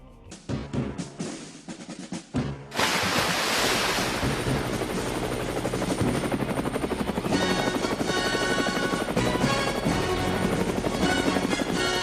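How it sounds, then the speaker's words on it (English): Helicopter-like rotor whir in the game Mighty No. 9, coming in abruptly after a quieter opening and then holding as a loud, steady beating roar with a windy, rushing texture. "who knew this thing could double as a helicopter?"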